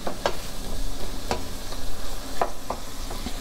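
A spoon stirs strudel mixture in a bowl for an apple strudel, making a few soft scraping strokes about a second apart over a quiet background.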